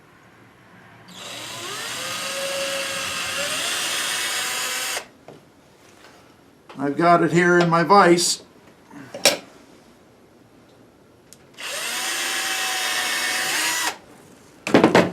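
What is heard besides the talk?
power drill drilling a hole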